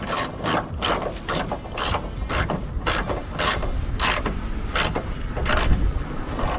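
A hand ratchet wrench tightens nuts while installing LED tail lights on a 2018-2024 Toyota Camry. Rapid, crisp clicking runs close and continuous in quick bursts, with nobody talking.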